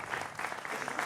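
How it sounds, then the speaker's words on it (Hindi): Studio audience applause greets a guest on a televised political debate show, a quiet but continuous patter of many hands clapping over about a second. "जोरदार तालियों के साथ अभिनंदन है"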